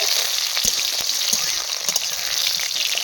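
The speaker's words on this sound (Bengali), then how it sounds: "সিমগুলো তেলের মধ্যে পড়তেই খুব সুন্দরভাবে না ফুলে ফুলে উঠবে, যতটাই ভাজা হবে" Broad beans fry in hot oil for a potato, pea and bean curry, with a dense, continuous close sizzle and crackle and scattered sharp pops throughout.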